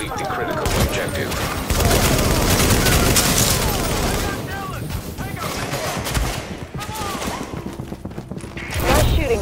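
Dense, loud gunfire from the video game The Division, with sustained automatic bursts and heavy booms filling the scene and game voices talking over the shooting.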